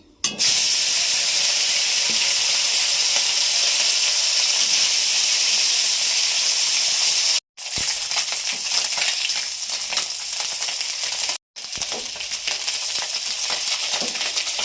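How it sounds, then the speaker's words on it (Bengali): Khoira fish frying in hot oil in a pan, a loud, steady sizzle that runs close and continuous, broken by two brief silent gaps before carrying on at the same intensity. "তেল গরম হয়ে গেছে, মাছ ভাজছি।"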